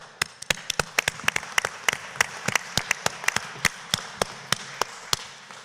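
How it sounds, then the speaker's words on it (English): Applause at a Cleveland city council meeting, a steady run of sharp, distinct claps from a few people nearby, fairly quiet, with no talking over it. "So let's give a round of applause"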